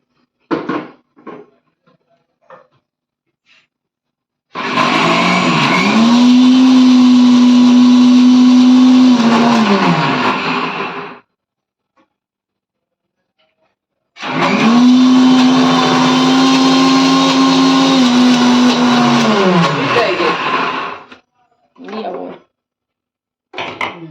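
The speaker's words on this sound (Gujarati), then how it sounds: "આ રીતે ચણાની દાળ સરોજબેને પીસવાનું કામ શરૂ કર્યું છે" An electric grinder grinds soaked chana dal (split chickpeas) for handvo batter, running in two long loud bursts of steady whirring separated by a pause, with brief clatters of the jar and lid before and after each run.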